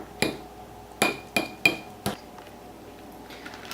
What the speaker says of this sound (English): We are going to add that to the mixture and stir it